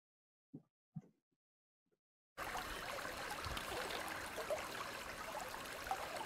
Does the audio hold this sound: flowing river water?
yes